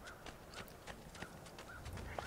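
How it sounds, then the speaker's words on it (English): Horse hooves clip-clop in a steady rhythm with short neighs and whinnies in Assassin's Creed II, set in Renaissance Italy, moderately loud over a constant game ambience. "It was, of course, a horse."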